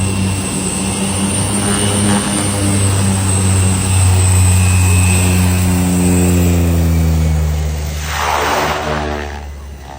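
An airplane making an emergency landing in bad weather roars loudly and continuously, its steady engine drone shifting in pitch as it passes close overhead, with no voices.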